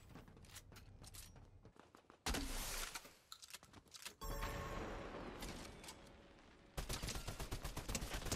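Gunfire in the Fortnite video game: loud bursts of rapid shots, some sharp single cracks, in blocks separated by short lulls.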